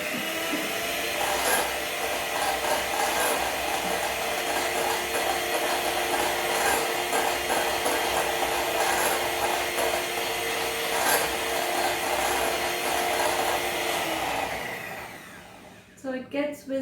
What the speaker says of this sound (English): So it gets whisked for approximately a minute, and this is on a very medium speed.